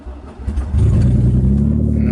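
Drift car engine, idling high when cold, swells into a loud steady rev as the clutch is let out and the car pulls away, close and droning for the rest of the moment.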